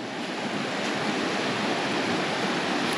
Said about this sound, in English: the current flows right down here into the rock